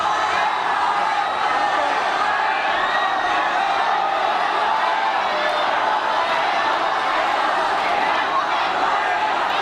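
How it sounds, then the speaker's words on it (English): A large concert crowd roars and cheers continuously at a live show, a dense wall of shouting and whooping that stays loud and steady throughout. "Listen to that crowd."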